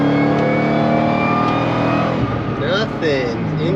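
Supercharged Ford Crown Victoria engine held at full throttle, a loud steady high-rev drone with whine that drops off partway through as voices talk over it.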